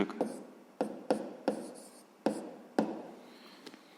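Chalk or marker strokes on a board while a 6th-grade math exercise on factoring out a common factor is solved, a series of sharp, close taps and scrapes in an irregular rhythm with no talking.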